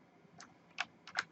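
Quiet computer keyboard typing, a few soft sparse keystrokes close by with short gaps between them.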